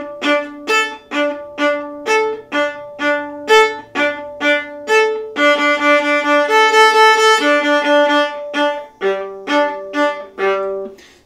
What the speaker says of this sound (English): So if I were to play just open strings from the beginning, it would sound like this.